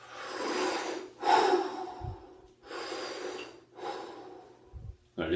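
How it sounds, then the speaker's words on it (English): Heavy, deliberate breathing in an ice bath: four long, loud, close inhale-exhale cycles with rushing air and a few snorting breaths, no speech. "I'm gonna do some breathing."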